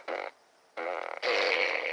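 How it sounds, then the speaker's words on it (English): A toy plays cartoon fart sound effects, three loud buzzy blasts in quick succession, close by with no talking over them. "Our cartoon farts."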